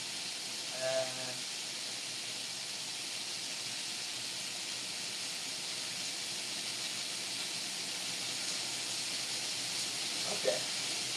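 Beef searing in a hot pan gives a steady, broad sizzling hiss that runs throughout at a moderate, even level, with brief voices faintly over it near the start and end.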